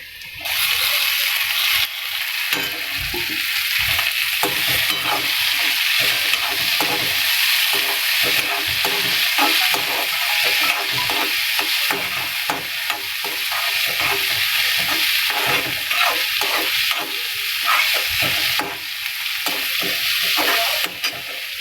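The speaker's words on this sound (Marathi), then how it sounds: "कांदा भाजला गेलाय. यात आपण टोमॅटो ॲड करूया." Tomatoes frying with browned onion in a pan for egg curry, a loud continuous sizzle with steady spatula stirring and scraping throughout, close by and with no voices.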